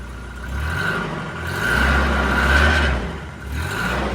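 An RV engine revved during a sound check at a campground, its low rumble swelling into two sustained revs and dropping back to idle between them, steady and close with no talking.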